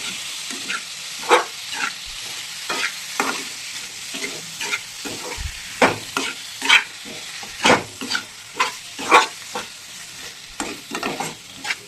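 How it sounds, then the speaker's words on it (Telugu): Liver frying in a pan: a steady sizzle broken by rhythmic scraping stirs, a dozen or so distinct strokes close up, with no one talking. "ఇప్పుడు దీంట్లోకి లివర్ వేసుకున్నాం."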